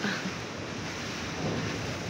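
Strong typhoon wind bringing light rain roars in a steady, dense broadband rush around a house, loud and unbroken with no voices.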